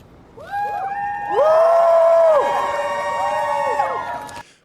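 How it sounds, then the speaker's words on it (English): Outdoor crowd greeting NYC mayoral candidate Brad Lander as he walks free, rising into loud overlapping whoops and cheers that hold for several seconds and then cut off abruptly. "Crowd cheers Lander walking free."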